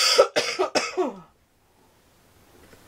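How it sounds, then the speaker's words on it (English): Several rough, close coughs in a quick burst, followed by near silence and a faint sound at the end. "Sorry about all the coughing."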